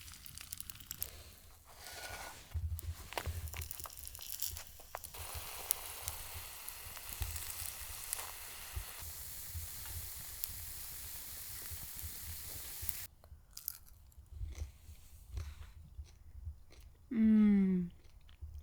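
Bread sizzles and crackles in a pan on a camping stove inside a snow igloo in bitter cold, with a steady frying hiss over several seconds and some handling noises. A short voiced sound comes near the end.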